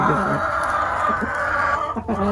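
A rooster clucks and murmurs in short bursts close by, over a steady background hum.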